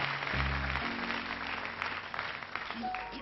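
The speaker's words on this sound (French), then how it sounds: "On l'applaudit très fort, cette petite fille" A studio audience claps for a little girl on a French television show, a dense, steady wash of applause lasting a few seconds, with a brief voice or tone audible at the start.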